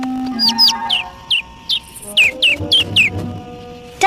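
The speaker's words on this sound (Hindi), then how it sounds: "ओह, एक नन्हा सा पंछी।" A small bird chirps in a run of short, bright, rising tweets, roughly ten calls spread across a few seconds, close and clear over faint background talk and low hum.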